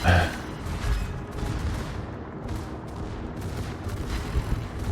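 Secondary guns of the battleship Agincourt firing in a naval video game, a dense rolling fusillade of overlapping booms from several ships with constant heavy rumble and some speech over it.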